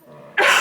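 A person clears a tickle from the throat, a short raspy burst that starts quiet and then turns abruptly loud, close to the listener.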